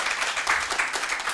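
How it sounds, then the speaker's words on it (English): A workshop audience claps together, a brief steady burst of applause. "really clap yourselves for being here"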